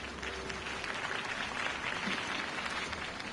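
A crowd applauds a campaign speech in a Batman video game, a dense, steady wash of clapping that holds at an even level for the whole stretch without any voices over it.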